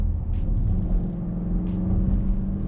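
Engine of a 2020 Dodge Durango R/T under full throttle, a loud, steady low rumble heard from inside the vehicle for a few seconds, with no talking.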